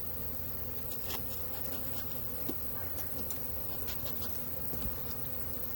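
Honey bees drone steadily inside an opened two-frame queen mating nuc hive, a continuous buzz with no breaks and occasional faint outdoor ticks.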